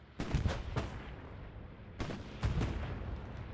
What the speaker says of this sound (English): that is a Chimera bombing run